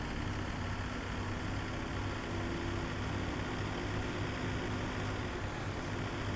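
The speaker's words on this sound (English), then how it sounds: "I think this tractor should be okay pulling that." Tractor engine in Farming Simulator 2017 droning steadily while pulling a trailer, a low continuous hum at moderate level with no voices.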